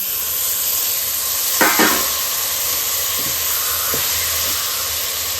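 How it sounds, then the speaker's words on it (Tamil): Ginger garlic paste, curd and tomato sautéing for chicken biryani, a continuous bright sizzle with a few quick scraping stirs of a spatula in the pan, close and steady. "இது எல்லாத்தையும் சேர்த்து நல்லா மிக்ஸ் ஆகிற அளவுக்கு வதக்கி விட்டுக்கலாம்."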